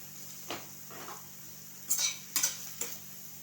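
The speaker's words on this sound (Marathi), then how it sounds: "मसाला लागतो तो आपण भाजून घेऊया त्याला पॅन ठेवले त्याच्यामध्ये कांदा घालूया" Sliced onion dry-roasting in a pan for butter paneer masala, with a few sharp clinks and scrapes of a spatula against the metal spaced irregularly over a quiet background hum.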